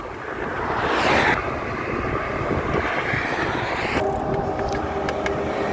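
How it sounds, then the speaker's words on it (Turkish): Loud, roaring gusts of a strong windstorm buffet steadily throughout while cycling through a gorge between two mountains, with a brief surge early on and a sustained blustery rush afterward. "şu an çok şiddetli bir rüzgar fırtınasına yakalandık"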